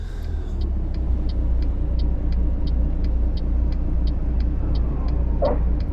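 Modded truck engine sound in American Truck Simulator on an icy road run out of Fairbanks: a steady, loud low rumble throughout, with a faint regular ticking above it and a brief hiss near the end.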